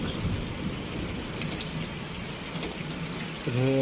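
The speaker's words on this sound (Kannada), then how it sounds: "ಈ ವರ್ಷದ ಮಳೆ ಅಂತರೂ ಫುಲ್ ಫಸ್ಟ್ ಮಳೆ ಮಸ್ತ್ ಬರ ಐತ್ರಿ" Steady rain patters down in a dense, continuous hiss, moderately close, with a faint tonal sound appearing at the very end.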